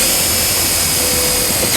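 A power driver with a 1/4 inch socket runs a self-tapping screw into a vehicle body for a trailer wiring ground, producing a steady, loud whirring drone throughout.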